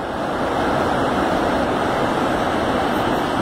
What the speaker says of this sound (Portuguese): aqui na Cachoeira, de frente à cidade de Buritizeiro, tomando muita água